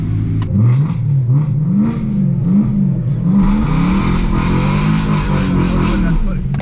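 A BMW E92 M3 with a loud exhaust drives in the rain, its engine droning and rising and falling in pitch as it revs, with people talking over it inside the car.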